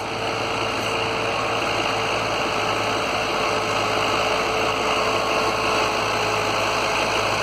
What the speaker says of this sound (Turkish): an 3 tane traktörümüz çalışıyor